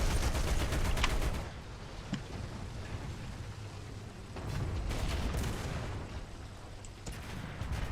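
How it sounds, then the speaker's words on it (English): Tank machine gun fire in the War Thunder tank battle game, loud rattling bursts at the start, then quieter sputtering fire in the middle before another strong burst swells up, with no voices. "My machine gun does more damage than my cannon."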